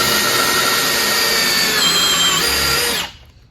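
A Diablo self-feeding auger bit bores a hole through wood under a power drill, a loud steady whining grind held for about three seconds before cutting off abruptly.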